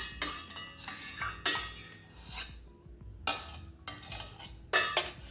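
A spoon scrapes and clinks against a pot while stirring canned cream of mushroom soup thinned with whole milk, in repeated bursts of metallic scraping separated by brief pauses, close and clear.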